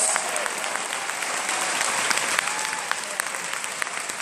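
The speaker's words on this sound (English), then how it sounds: "Round of applause to our dads." An audience applauds dads standing up in a room, a steady dense wash of clapping with scattered sharper claps, continuous and loud throughout.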